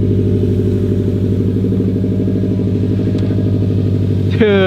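A lowered Subaru WRX on freshly installed coilovers idling as it pulls out of a garage, a loud close steady burbling engine drone that ends with a brief rev.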